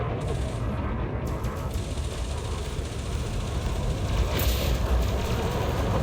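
Sustained rapid cannon fire from a starship's multi-cannons in the space combat game Elite Dangerous, a dense continuous rattle lasting throughout with a brief louder swell near the end.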